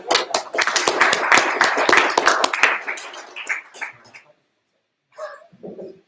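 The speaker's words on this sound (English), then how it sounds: "So round of applause for all of us." A round of applause from the audience at a fan creator roundtable at a Transformers fan convention, dense clapping that fades after about four seconds, followed by brief voices.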